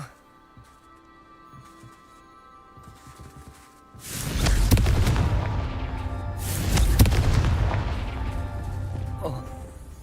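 A Confringo spell blast in Hogwarts Legacy, with two loud booming explosions a few seconds apart after a quiet stretch, each followed by a crackling, rumbling tail.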